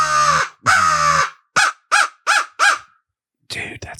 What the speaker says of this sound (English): That's a really good crow call.